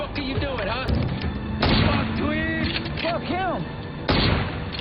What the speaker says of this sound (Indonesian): Dia malah mengarahkan senjatanya ke arah mobil Ramon dan mulai menembakinya.